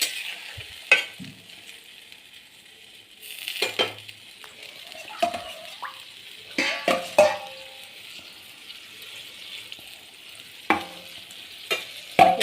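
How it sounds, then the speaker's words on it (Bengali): Water goes into an eggplant and potato curry frying in a pan, bringing a soft sizzle broken by sharp spoon scrapes and clinks against the metal, with quiet gaps between strokes. "তো এবার এখানে একটু জল অ্যাড করব।"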